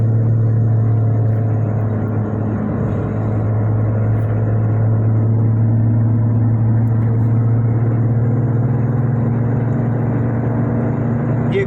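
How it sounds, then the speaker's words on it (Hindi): A car drives along a road during a police pursuit in Islamabad, giving a steady loud engine drone and road rumble heard from inside the vehicle, with no speech. "ये गाड़ी जा रही है, ये देखें।"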